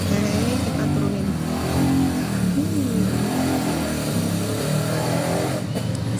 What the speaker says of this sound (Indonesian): Sorry agak berisik, ada motor lewat.